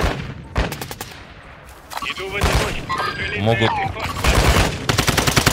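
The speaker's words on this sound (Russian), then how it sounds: "Кто-то активно с этой стороны стрелял." Gunfire in the video game Warzone 2 DMZ, several bursts of shots and sharp reports scattered through the clip, fairly loud and mixed with game effects while someone talks over it.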